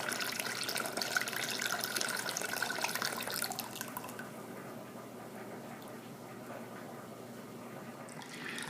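Home-brewed wort pours from a vessel back into a mash tun, a steady splashing gush of liquid that softens and thins partway through, then picks up slightly near the end.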